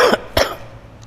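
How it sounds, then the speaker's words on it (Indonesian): Two sharp coughs from an adult man during an Islamic lecture, close and loud, with a short gap between them and then quiet. "Mulai kumat batuk."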